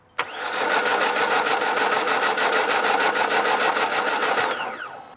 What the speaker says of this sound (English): spin the engine over with the ignition on